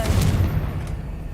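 A Confringo fire curse from Hogwarts Legacy bursts in a single short, heavy boom that hits immediately and then fades into a low rumble within about a second.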